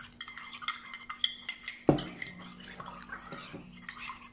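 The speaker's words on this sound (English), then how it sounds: "And then what we do now is we stir it." A spoon stirring a gelatin dessert mixture in a bowl, quick repeated light clinks and scrapes in a steady rhythm with one louder knock midway, close up and with no voices.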